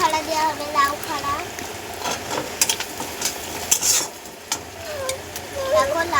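Gourd stems and potato go into a frying pan for a cumin curry and are stirred. Moderate sizzling runs beneath repeated clinks and scrapes of a utensil against the pan, with a voice talking at times.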